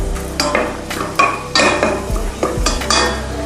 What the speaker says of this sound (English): So straight into here. Give it a good stir.